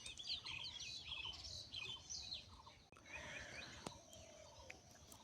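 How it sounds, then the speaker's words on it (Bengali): Several birds chirp and call from a flowering shimul tree on a misty winter village morning, quick bright twittering phrases overlapping at moderate distance over a soft background hiss. "সবগুলো পাখি মনে হয় শিমুল গাছে এখন।"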